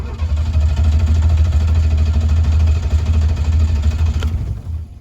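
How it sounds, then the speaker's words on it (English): A car engine cranks on its starter motor during a battery and starting system test, giving a loud steady low churning drone for about four seconds before cutting off abruptly. "we're going to go ahead and hit the crank again"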